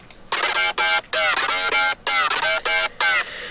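Serum synthesizer saw layer for an FM electro house lead, a bright buzzy tone played as a choppy rhythmic riff of short repeated notes with brief gaps, loud and dry without voices.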